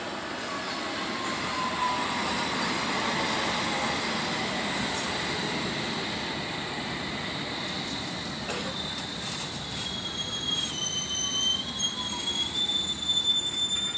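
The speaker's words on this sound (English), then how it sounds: "There's a train coming right now, going to Uxbridge." A London Underground Piccadilly line train bound for Uxbridge pulls into the platform with a loud, continuous rumble and high, drawn-out wheel squeals.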